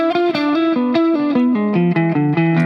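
A quick descending guitar line with a distorted, effected tone, single notes picked in rapid succession over a few seconds.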